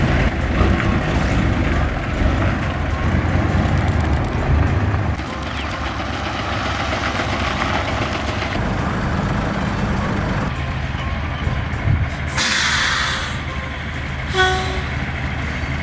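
Two trucks arrive at a Nordic-style house construction site, a low engine rumble dominating at first and then easing to a steadier drone, with brief higher mechanical hiss near the end.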